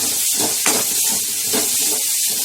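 Jaggery and grated coconut fry together in a pan over a low flame, a soft continuous sizzle with gentle stirring scrapes, close and steady, with no talk.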